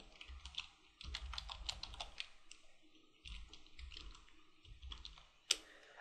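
Fingers type a password on a computer keyboard during an Ubuntu installation: quiet, close keystroke clicks in short uneven bursts with brief pauses, ending on one sharper tap.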